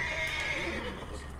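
A horse neighs in the Red Dead Redemption 2 video game, a loud, close whinny lasting over a second with faint hoof clip-clops underneath.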